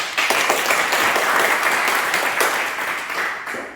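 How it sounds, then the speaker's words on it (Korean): A class of students claps together after presentations in a classroom, giving a dense, even burst of applause lasting a few seconds. "박수 한번 칠까?"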